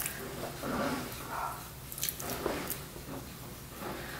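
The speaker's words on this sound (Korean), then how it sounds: "뜨거운 물 좀 살살 넣어가면서 이렇게 좀 섞을게요" Red bean porridge is stirred in a pot as hot water is eased in, soft wet squishing and thick gloopy churning in a few slow strokes, close and quiet.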